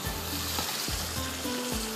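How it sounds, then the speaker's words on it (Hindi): Water poured into a hot pan of lauki (bottle gourd) mutton gravy sizzles and bubbles loudly and steadily, with a few stirring scrapes, close up. "यहाँ पर थोड़ा सा पानी जाएगा, ये बिल्कुल ड्राई हो गई है"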